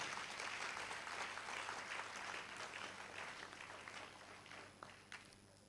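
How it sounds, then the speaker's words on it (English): Audience clapping for a university Vice Chancellor at a congregation ceremony, a dense, even wash of many hands that stays steady and slowly thins toward the end, heard faintly from a distance. "So may we give it again to our Vice Chancellor."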